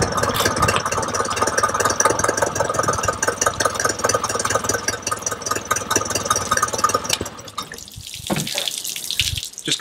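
A two-stroke motor with twin carburettors idles after carburettor synchronisation, giving a steady, busy, rapid chatter close by that thins and turns patchy near the end.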